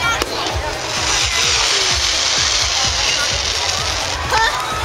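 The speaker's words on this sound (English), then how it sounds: "We're at Coney Island and there's fireworks!" Fireworks bursting over Coney Island beach, a rapid string of cracks and pops over a dense roar of crowd and surf, fairly loud and continuous.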